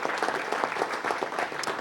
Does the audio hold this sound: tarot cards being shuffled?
no